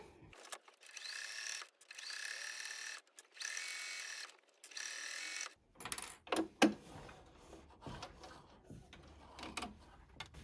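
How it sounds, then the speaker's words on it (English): A sewing machine stitches binding onto a quilt in short bursts of rapid mechanical whirring, with pauses between them. Later come scattered clicks and handling noises as the needle is set down and the quilt is adjusted. "I'm just going to slowly stitch right in that ditch, and I'll put my needle down and adjust my quilt as needed"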